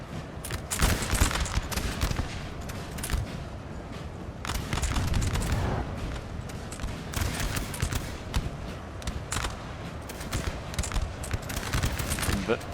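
Dense musket volleys and artillery fire in a Napoleon Total War multiplayer battle, with continuous crackling gunfire and repeated sharp bursts that never let up, mixed with a voice talking over it.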